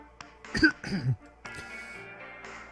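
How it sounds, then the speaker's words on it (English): A character in the visual novel game Virtue's Last Reward gives a few short, awkward coughs and throat clears, close and fairly quiet, followed by a faint low background hum. "I coughed awkwardly and looked pointedly around the room."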